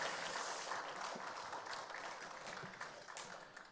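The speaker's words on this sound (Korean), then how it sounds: "우리 렘넌트를 세우신 하나님께 더 큰 영광의 박수를 돌려드리겠습니다." Congregation in a church applauding, a soft, distant wash of many hands clapping together, steady and fairly faint, fading slightly at the close.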